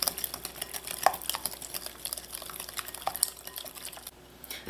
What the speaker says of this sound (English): You just want to mix this until the sugar dissolves